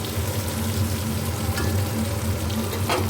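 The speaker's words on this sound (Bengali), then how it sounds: "এই যে লবণ দিয়ে পটলটা একটু ভেজে নেবো" Pointed gourd (potol) frying with salt in a pan, a steady close crackling sizzle of oil running evenly without pause.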